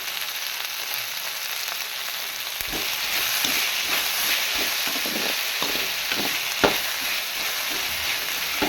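Okra and egg sizzle and crackle steadily in a hot pan, a dense continuous fry with scattered stirring clicks and scrapes of a utensil against the metal.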